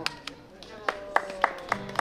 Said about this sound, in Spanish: Ahí están los aplausos